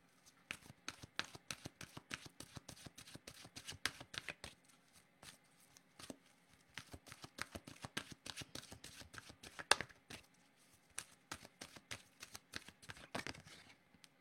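A deck of tarot cards is shuffled repeatedly by hand, a quiet rapid riffling and flicking with brief pauses between runs, close and soft with no talking.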